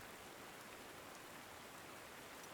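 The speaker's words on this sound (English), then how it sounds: "As I say that, it starts to rain." Steady, even rain hiss in the Panzer Corps 2 strategy game, a dense broadband patter with no breaks or distinct drops.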